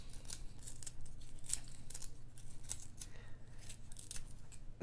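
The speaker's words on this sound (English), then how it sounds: "Now this one's making me shave the pencil at an angle" Pencil being sharpened in a metal KUM sharpener, the blade shaving wood at an angle in a steady, quiet scraping rasp with soft rhythmic strokes throughout, close up.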